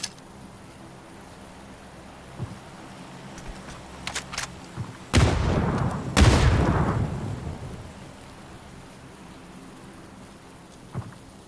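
Steady video game rain patters throughout, broken by two loud thunder rumbles and a few sharp cracks, with no voices.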